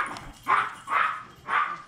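Puppies bark in three short, evenly spaced yips close by, high and bright with brief pauses between, and no one talking over them.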